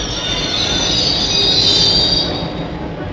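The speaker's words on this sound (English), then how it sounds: "London's Underground Railway, the first in the world, celebrates its first century." A London Underground train runs along the rails in a loud, steady rumble with a bright, sustained squeal of wheels on track that holds for the whole stretch and eases slightly near the end.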